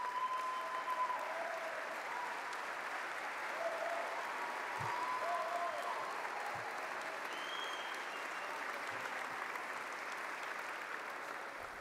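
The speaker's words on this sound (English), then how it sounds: "let's give them a round of applause" Sustained applause from a State of the City address audience honoring city employees, steady dense clapping filling a large hall for about twelve seconds, with faint background tones and no talk on top.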